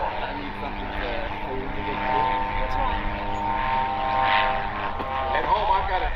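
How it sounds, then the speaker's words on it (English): A light propeller airplane makes a short landing at an air show, its engine droning steadily and fairly close throughout, with a public-address announcer talking over it. "He does such a good job of landing that aircraft so short."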